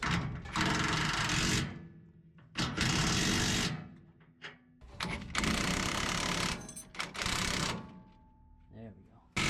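Lift kit suspension bolts on a 2020 RAM 1500 with a Rough Country 6-inch kit, tightened in a driveway: three long, loud bursts of whirring, rattling power-tool hammering separated by short pauses, with a voice in between.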